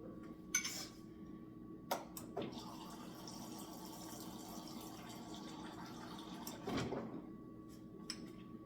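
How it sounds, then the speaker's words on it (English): Water poured into a bowl of sugar-free mousse mix, a steady running trickle with a few clinks of a spoon and dish, moderately close and fairly quiet with no talking. "Alright, so I just added some water."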